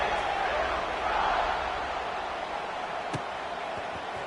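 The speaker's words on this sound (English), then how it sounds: "this crowd is buzzing after that last score" A football stadium crowd buzzing after a touchdown in a Dynasty game, a steady loud roar of many voices filling the whole stretch, with a single sharp knock near the end.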